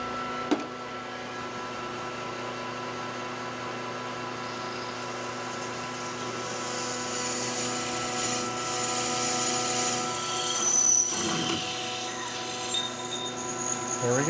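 A metal lathe partings off and cleans up the edge of a metal part for an Arri camera lens adapter, a steady machine whine with tonal harmonics and a rising cutting hiss near the end, no talk.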